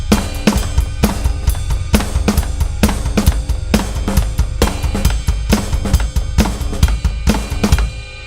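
1960s-style rock drumming, with busy, driving hits and cymbal wash in a steady, energetic groove, loud and close throughout, with no talking.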